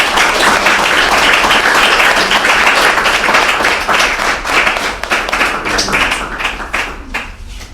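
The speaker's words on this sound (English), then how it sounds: "Will you please give Professor a round of applause?" An audience at a School of Governance public debate gives a professor a loud round of applause, many hands clapping together, the sound thinning into scattered individual claps toward the end.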